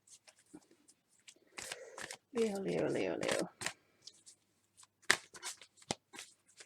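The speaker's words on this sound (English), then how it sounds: "I'm just going to pack up these cards, and we're going to reshuffle" Tarot cards are shuffled in quiet, brief riffling bursts, the longest lasting about a second, between soft clicks. A low voice repeats one word several times.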